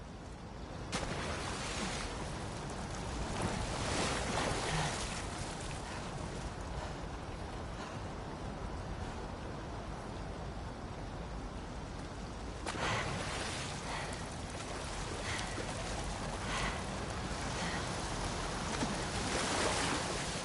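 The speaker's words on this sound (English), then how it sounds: "the player was faced with a fast-flowing torrent of water they couldn't cross" A fast-flowing torrent of water in The Last of Us Part II video game rushes steadily and faintly throughout, a continuous surf-like roar that swells slightly at moments.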